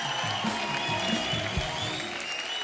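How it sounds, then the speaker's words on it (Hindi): An audience applauds guests arriving on the stage of The Kapil Sharma Show, a TV comedy show. The clapping is dense and steady for nearly three seconds, with faint voices mixed in. "जोरदार तालियां हो जाए हमारे मेहमानों के लिए"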